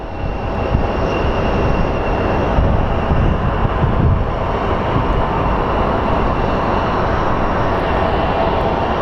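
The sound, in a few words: American Airlines plane taking off from runway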